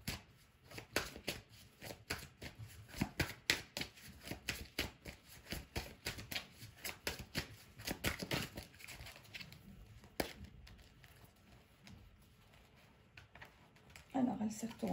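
A deck of oracle cards is shuffled in quick, repeated riffling bursts close by, with pauses between runs and a voice speaking softly over part of it.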